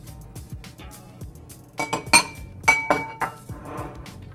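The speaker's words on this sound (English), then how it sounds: "Make sure the egg gets whisked in there." An egg is whisked into milk and vanilla in a bowl, with quiet scraping strokes building into sharp, ringing clinks of the whisk against the bowl, close and irregular.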